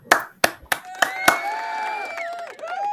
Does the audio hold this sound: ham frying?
no